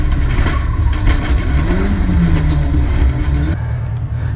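A Mini's engine runs roughly at an autotest event, a steady, loud, rumbling drone with uneven pitch sweeps, continuing until it drops abruptly near the end; no one talks.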